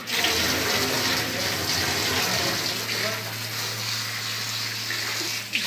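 Water pours steadily into the interior of a dishwasher machine to rinse it out, a continuous close splashing rush like a running tap that carries on throughout.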